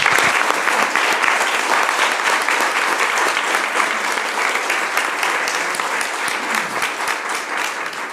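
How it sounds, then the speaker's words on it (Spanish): An audience at an academic panel on race and gender applauds warmly, with dense sustained clapping that stays loud throughout and only slowly tapers. "les damos un aplauso"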